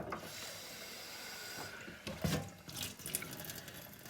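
Water is poured out of a cooking pot after rinsing buckwheat, giving a soft, close splashing that swells in short bursts over a faint background hiss, with no talking.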